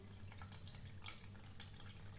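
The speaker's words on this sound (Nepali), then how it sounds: "अब म यसको पानी निताार्छु।" Water drains from soaked beaten rice in a kitchen, with faint trickling and scattered soft drips over a low steady background hum, no voices.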